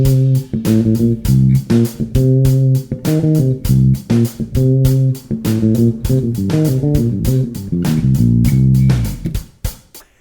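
An electric bass guitar plays a minor pentatonic fill with an added Dorian note: a loud, close run of quick plucked notes in a busy rhythmic phrase that ends with a fade, with no voices.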